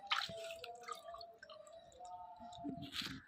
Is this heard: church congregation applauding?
no